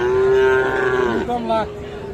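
A young Friesian-cross calf gives a long, loud, close moo that wavers and breaks near the end, with a faint crowd murmur behind at a livestock market.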